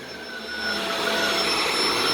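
A vacuum cleaner runs with a loud, steady whine and broad roar that swells slightly and then holds, with no voices over it.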